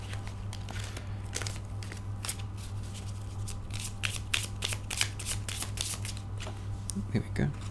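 Tarot cards are shuffled continuously up close, a quick patter of riffling and sliding card edges over a low steady hum, with a soft voice speaking underneath.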